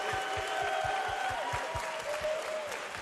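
Audience applause at a live Super Mario Maker 2 invitational event, a dense steady patter of clapping that lasts throughout while voices and crowd noise carry on underneath.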